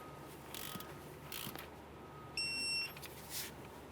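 Ratcheting clicks from a torque wrench tightening the outer tie rod mounting nut on the steering knuckle of a 2002-2009 Chevrolet Trailblazer, with brief mechanical clatter and a short electronic beep partway through, close and fairly quiet.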